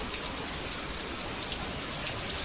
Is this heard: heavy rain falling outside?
yes